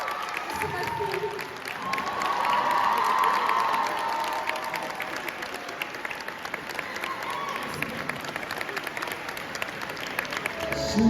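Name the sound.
audience applause and cheering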